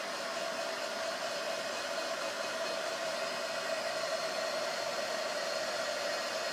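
A heat tool blows steadily to dry ink on a craft project resting on an ink mat, a continuous loud whirring hiss with no breaks and no talking.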